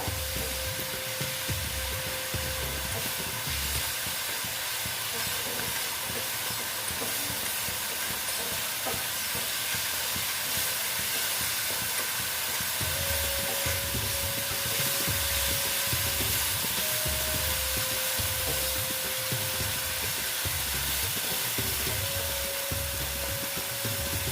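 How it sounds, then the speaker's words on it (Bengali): Spice paste is sautéed in a pan for a vegetarian potol (pointed gourd) dish, heard as a loud, steady sizzling hiss with continuous stirring scrapes underneath, close and constant throughout without any talking. "একটু কষিয়ে নিচ্ছি মশলাটা"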